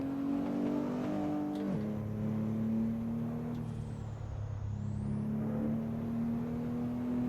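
A Nissan GT-R engine in Assetto Corsa holds a steady, loud drone with clear harmonic tones, briefly shifting pitch near two seconds and then climbing slowly as revs build, with no talk over it.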